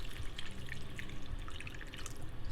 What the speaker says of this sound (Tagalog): Add na natin yung tubig guys.